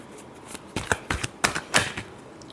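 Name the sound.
shuffling tarot cards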